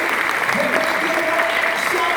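Steady applause from a church congregation fills the clip, a dense even patter of clapping with a voice faintly present underneath.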